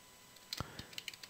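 Short burst of computer keyboard typing, a handful of light quiet clicks and key taps in irregular rhythm, close and alone with no talk.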